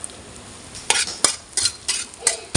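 Noodles are stir-fried with golden-fried shallots, bringing a handful of sharp scraping strokes of a utensil against the pan at an irregular pace over a soft, steady sizzle, heard close and alone.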